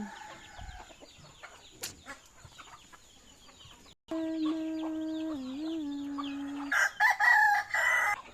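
A rooster crows loudly nearby in a long drawn-out call, followed by clucking and other chicken noises over a quiet farmyard background.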